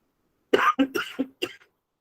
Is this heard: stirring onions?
no